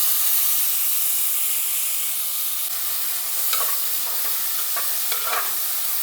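Washed and drained rice roasts in a pan for coconut rice, giving a bright continuous hiss with a few light scraping stirs near the end.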